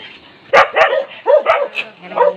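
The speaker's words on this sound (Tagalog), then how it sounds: "Ito pala ang aming" Several sharp dog barks in quick, uneven succession, close and loud, with a short whimper-like yip between them.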